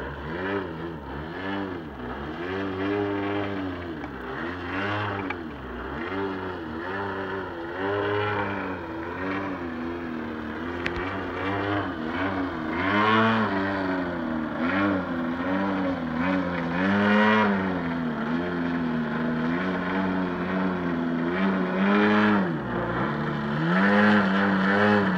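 Buzzing engine of a radio-controlled model airplane rises and falls in pitch as it loops and passes overhead, staying fairly loud and continuous throughout.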